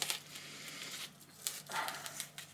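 Scissors snip through a rubbery sound deadening mat in a few crisp, irregular cuts, close up and fairly quiet, with no voices.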